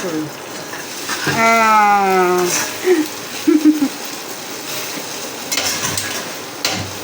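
An egg frying in a pan at home crackles and sizzles under clattering stirring and pan knocks. A whining, tonal voice-like sound rises over it early, and people speak nearby.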